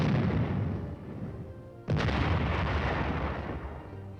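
An M47 medium tank fires its 90mm gun: a deep rumbling blast gives way to a sudden second heavy boom that rolls on with a long, low echo, loud and fairly near.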